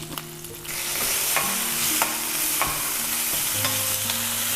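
Green chilies, dried red chilies, curry leaves and turmeric sizzle in a pan, starting quieter and then frying loudly and steadily, with a spoon scraping and clinking against the pan at intervals.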